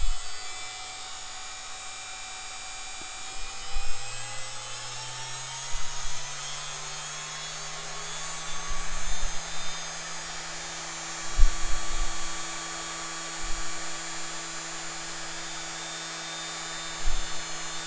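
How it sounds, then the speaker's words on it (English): A small electric motor runs on a DC bench power supply at around 24 volts, giving a steady high whine with a low hum beneath. A few faint knocks and bumps occur throughout. "Quite a bit of power out of this motor."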